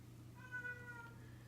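One quiet, drawn-out cat meow in the background, faint against a low electrical hum, with no talking.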